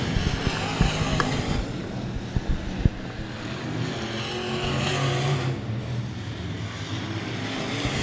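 Race cars roar around a dirt speedway on the final lap of a battle for the lead, a loud continuous engine drone that swells and fades as the cars pass, with crowd noise beneath.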